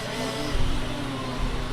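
A red race car's engine drones steadily at high revs during a timed stage-rally event, as a constant close mechanical roar with slight surges and no talk over it.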